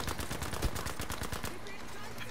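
Rapid video game gunfire, a dense burst of automatic shots in quick succession that fades out after about a second and a half, loud and close.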